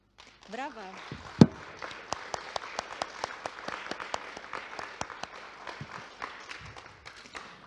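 Applause from the audience at a Polish awards gala, with a loud initial clap, then sustained, crisp individual claps from a medium crowd while a voice briefly sounds at the start.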